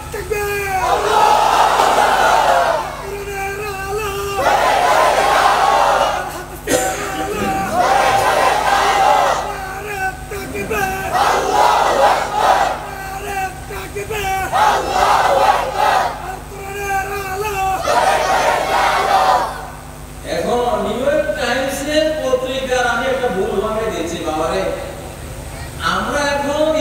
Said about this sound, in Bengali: যে যুবকরা সেই রকম একটা তাকবীর দাও নারে